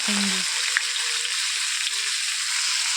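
Pieces of ash gourd sizzle steadily in hot oil in a wok with cumin, bay leaf and dried chilli, a loud, continuous close-up frying hiss with a brief clink at the start.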